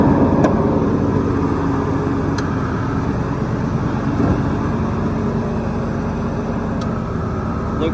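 A restored 1987 GMC High Sierra 1500 4x4 pickup's stock engine runs at a steady idle under the hood, a constant close rumble. The A/C compressor clicking on is not distinct within the drone.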